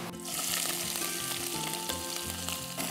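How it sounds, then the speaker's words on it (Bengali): Chopped onion frying in hot oil gives a steady, dense sizzle with a bright crackling hiss that stays loud and even throughout, with no voices. "আমি এখন একটু পেঁয়াজ কুচি দিচ্ছি তেলে"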